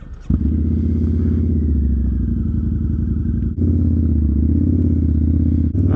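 A Harley-Davidson motorcycle engine cranks and starts, then settles into a loud, close, steady rumbling idle with a brief dip partway through.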